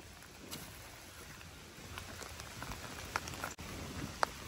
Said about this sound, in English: This is just a good summer rain, man.